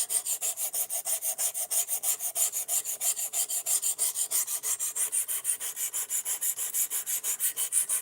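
Steady back-and-forth rasping of a sharpening tool drawn over wood, about three strokes a second, close and even in loudness, continuing for the whole stretch with no talking.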